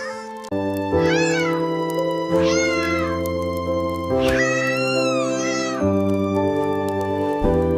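Several kittens meow in a string of rising, wavering cries, four distinct calls over a steady tonal backdrop, close and clear with no talking.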